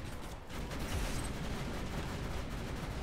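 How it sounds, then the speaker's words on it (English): Enemy gunfire in the Borderlands 2 shooter game: a dense, steady stream of overlapping shots and mechanical clatter at close range, continuing without pause for the whole stretch. "They're shooting dead bodies again."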